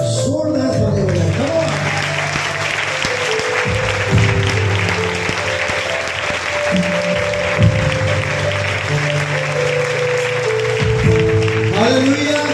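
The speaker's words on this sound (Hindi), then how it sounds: "तो आइए उसकी 12 साल की विश्वास योग्यता के लिए जोरदार ताली बजाएं।" Church congregation at an anniversary celebration applauds loudly, strong clapping mixed with sustained musical tones and voices, fairly close and continuous throughout.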